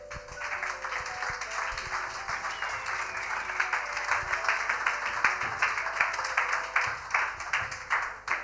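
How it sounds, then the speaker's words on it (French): A church congregation breaks into steady, continuous applause during a sermon, many hands clapping at a moderate distance with some faint voices underneath. "Tu peux acclamer un peu, frère et soeur?"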